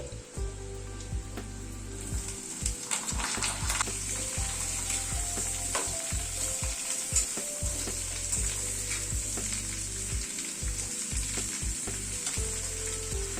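Pumpkin frying in a pan with black cumin and garlic sizzles steadily and close, with repeated scraping stir strokes breaking through the hiss throughout.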